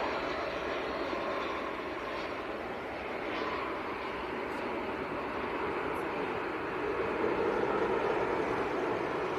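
An airliner goes around at Manchester Airport, its engines a broad, steady roar heard from a distance that swells slightly toward the end. There is no speech over it.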